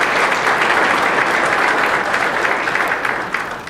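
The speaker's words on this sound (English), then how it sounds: "So they deserve a great round of applause for their efforts." Crowd at a cybersecurity summit breaks into loud, sustained applause, dense clapping from many hands that holds steady before tapering slightly at the end.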